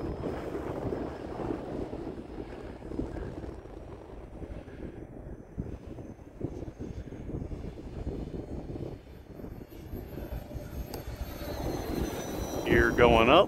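E-flite A-10 Thunderbolt II model jet with twin 64mm electric ducted fans, taking off from grass and flying. A steady whooshing fan drone runs throughout with wind buffeting, swelling louder near the end.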